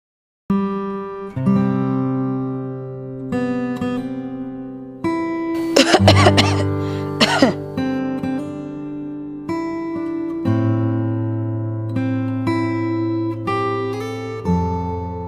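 A few sudden, harsh coughs break out in quick succession in the middle of a steady musical background, loud and close, with no talking.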